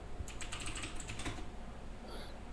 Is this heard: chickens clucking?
no